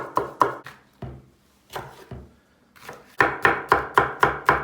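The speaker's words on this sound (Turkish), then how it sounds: "İçine hangi biber varsa onu doğruyoruz." A knife chops peppers rapidly on a cutting board, a few scattered strokes with pauses, then a fast, steady run of close, crisp chops.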